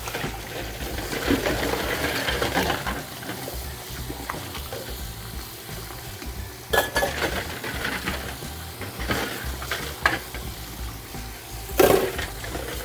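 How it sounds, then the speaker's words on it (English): A bowl and utensils are washed with water and soap, giving continuous running, splashing water with occasional clinks and knocks of the dishes, fairly close and without speech. "Just washing all things that we used in this bowl."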